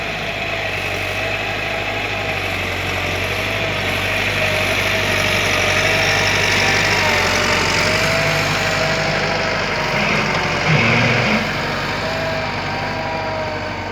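A tractor engine runs at a steady idle in a farm field being prepared for planting. The drone is loud, even and close, with a brief knock near the end and no voices.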